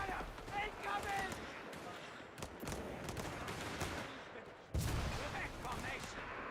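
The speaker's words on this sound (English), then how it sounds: "Enemy fire! Incoming!" Battle gunfire in Company of Heroes 3, a World War II strategy game with Wehrmacht forces: dense, continuous volleys of rifle and machine-gun fire with booming impacts, loud and steady, a heavy blast near the end, under radio-style unit voice lines.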